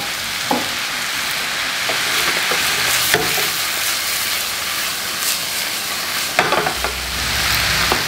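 White radish and carrot fry in a pan with a steady close sizzle and hiss, broken by occasional stirring scrapes and soft clunks.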